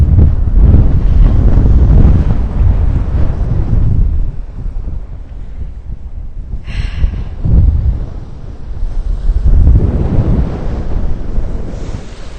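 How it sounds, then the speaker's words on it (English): Wind and surf roll onto a snowy Rhode Island beach after a New England snowstorm, heavy wind buffeting the microphone in strong loud gusts that ease briefly midway before building again, with no voices. "Yep, we got a snowy beach here."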